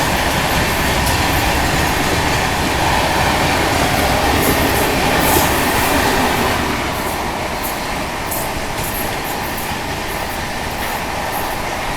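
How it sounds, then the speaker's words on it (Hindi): The Delhi–Mumbai Rajdhani Express rumbles past close by, running parallel with a freight train, with a steady roar of wheels and rushing air, a faint clatter running through it for the whole stretch. "ये देखो बैक टू बैक पैरेलल चल रहा है यहाँ पर मालगाड़ी के साथ।"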